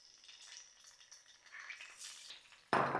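Cauliflower florets, washed and dried, shallow frying in a pan for aloo gobhi matar: a faint, low crackle for most of the stretch, then a sudden loud, steady sizzle as the pieces hit the hot oil near the end.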